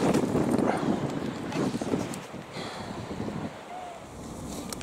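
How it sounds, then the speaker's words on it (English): Chilly outdoor wind buffets the microphone in a steady, loud rumble, with a faint brief whistle partway through and no speech. "It's a very chilly wind we're picking up here."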